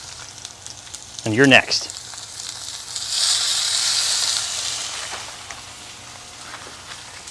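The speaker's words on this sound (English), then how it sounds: "Let it sear, get a good crust, about a minute on each side." An Omaha strip steak sears in a hot pan, giving a loud close sizzle that builds and then slowly fades. A voice speaks briefly just before the sizzle starts.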